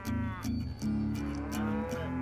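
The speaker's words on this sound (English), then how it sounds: "Man, these cows are noisy." Several cattle in a video game, Call of Juarez: Gunslinger, moo loudly in overlapping, drawn-out calls, one after another with brief pauses, close by and with no talking.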